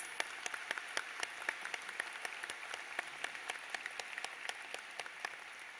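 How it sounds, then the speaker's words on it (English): Faint, distant applause at a university commencement ceremony, sparse individual claps standing out over a soft continuous patter from a large crowd. "Let's give them a big round of applause, please"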